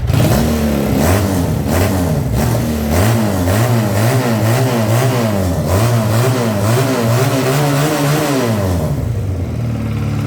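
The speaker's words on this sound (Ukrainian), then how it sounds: "звучить, як і має звучати двохциліндровий двигун" A loud two-cylinder motorcycle engine, a Futong Prince 250, runs up close, its pitch rising and falling in repeated revs before settling toward idle at the end.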